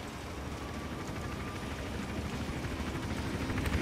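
A helicopter hovers in the Hitman Absolution video game, a low steady rotor drone with broadband engine whine that builds slightly louder toward the end, with no talk over it.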